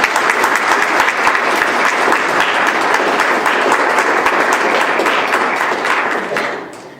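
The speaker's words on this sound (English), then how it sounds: "Please give them a round of applause." A university audience at a theatre performance breaks into loud, sustained applause, dense clapping that holds steady for several seconds before tapering off at the end.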